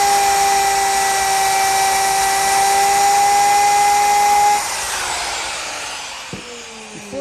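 A power saw trims a glued-up wooden post to length, running as a loud steady whine with strong tonal hum for several seconds, then winding down with a few light knocks as it stops.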